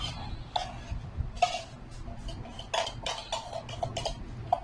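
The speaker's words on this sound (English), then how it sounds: "And then we're gonna whisk it." A whisk clinks against a bowl while stirring a condensed milk ice cream base, making irregular close metallic taps and scrapes with a low background rumble.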